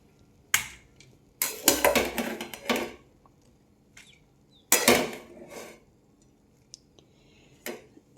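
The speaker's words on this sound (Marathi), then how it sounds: "तर आता मी घेते प्लेटमध्ये खायला काढून." A spicy chaat-masala snack is served onto a plate, with a few sharp clinks and clatters of utensils against dishes in short bursts separated by quiet pauses, and no talking.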